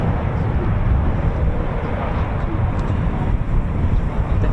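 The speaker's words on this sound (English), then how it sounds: "It looks like we've got two taxiing out for departure." Eurofighter Typhoon FGR4 jets taxiing out at RAF Coningsby produce a steady, loud low engine roar heard from a distance, with wind buffeting the microphone throughout.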